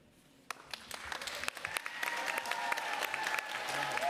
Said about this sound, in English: I'm going to ask that we not clap in between each person.